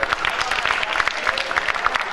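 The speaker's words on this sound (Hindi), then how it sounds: "उनके लिए भी बहुत सी तालियां" Audience clapping at a live music night, a dense steady patter of many hands sustained throughout, with crowd noise mixed in.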